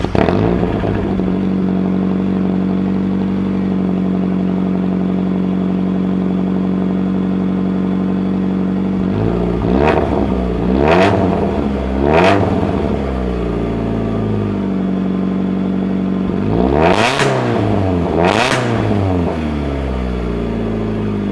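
Vehicle engine idling steadily through a stock manifold and catalytic converter exhaust, a loud continuous low drone, then several sharp revs around the middle and two more bursts near the end, with no talking.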